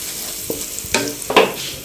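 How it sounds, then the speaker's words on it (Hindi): Crushed whole coriander and spices fry in a pan for chicken haleem, with a soft, steady sizzle broken by a few quick stirring scrapes. "इसको भी हम फ्राई करेंगे इसी के साथ।"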